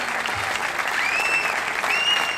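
Audience applause for a young band at a municipal cultural event, a steady dense wash of clapping at full level throughout, with a couple of faint whistles riding on top.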